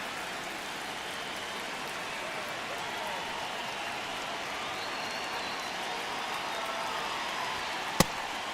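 A baseball stadium crowd in the video game MLB The Show 26 gives a steady, dense roar through a ninth-inning at-bat, with one sharp crack near the end and no talk over it.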